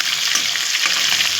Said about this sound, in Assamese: ইফালে আকৌ মাছ ফ্ৰাই কৰিছোঁ